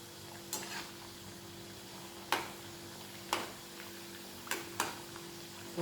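Puris for rava-besan laddoos frying in hot oil, a steady low sizzle broken by several sharp clinks of a utensil against the pan, close by and without speech.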